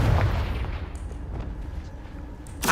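A Confringo spell explodes in Hogwarts Legacy with a heavy booming blast up front, a decaying rumble after it, and a sharp burst near the end, loud and close.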